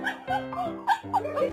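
A dog gives a short burst of yips and whimpering barks, fairly close and loud, in an outdoor yard setting, with no talk over it.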